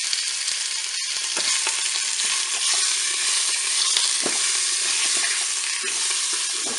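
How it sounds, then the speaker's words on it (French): Filet mignon fries in hot olive oil inside a nonstick Cookeo pot, a dense, loud, continuous crackling sizzle with sharp pops scattered throughout, heard close up with no talking. "l'huile est chaude, on va donc mettre le filet mignon dans la cuve"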